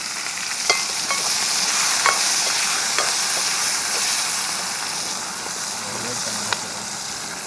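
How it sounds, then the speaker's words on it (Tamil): Onions frying in a pan and being stirred, with a loud, steady sizzling hiss and occasional spatula clicks, and faint voices in the background. "எல்லாம் போட்டு இப்போ வெங்காயம் போடுறோம்."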